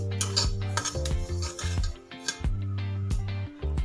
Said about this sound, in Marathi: आपल्याला इथं मीडियम गॅसवरती तीळ खरपूस असे भाजून घ्यायचे